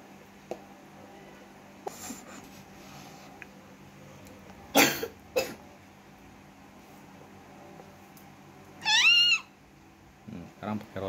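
A child coughs in a few short bursts at home, with a louder harsh cough in the middle and another later on, over low room noise and brief faint sounds.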